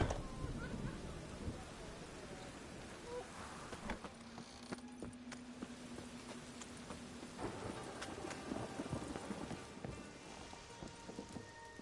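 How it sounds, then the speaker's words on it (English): Steady rain patters in the Witcher 3 video game, a faint, continuous hiss with a low rumble and scattered soft knocks, while voices speak now and then over it. "And it's raining again."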